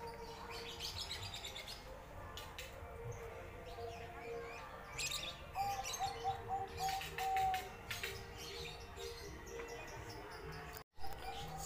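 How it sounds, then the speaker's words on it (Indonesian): Birds at the East Java pavilion of Taman Mini Indonesia Indah chirp and tweet repeatedly in a busy outdoor setting, with short calls and a soft cooing over a steady insect buzz and distant background murmur. "Di sini ada burung."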